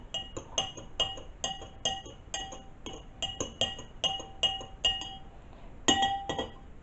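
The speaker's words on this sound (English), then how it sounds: "so just stir it around." A spoon clinks repeatedly against the inside of a glass while dissolving sugar into tea, a close, bright, rhythmic series of metallic-glass taps with no voices.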